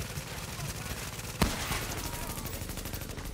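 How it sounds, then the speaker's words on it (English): Gunfire in the video game Tom Clancy's The Division: steady rapid automatic bursts with a sharper loud shot midway, under a busy battle mix. "We blind fire this guy enough, eventually we'll get him."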